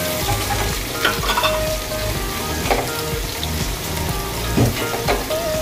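Garlic sizzles in hot oil in a pan, a dense crackling fry punctuated by a few scraping stirs of a spatula, close and steady throughout.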